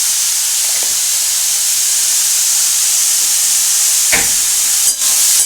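Paneer mushroom masala frying in a pan gives a steady, loud sizzling hiss, broken by a brief clatter near the end.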